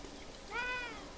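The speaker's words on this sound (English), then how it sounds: "There's several cats." In the video game Beyond Eyes, a cat gives one short, rising meow, faint and a little distant, over a soft ambient background of the game.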